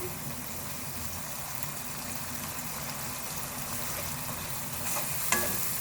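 Spice masala for arvi baingan sabzi roasting in a pan over a medium flame, a steady low sizzle with soft stirring and one brief clink near the end, close and quiet.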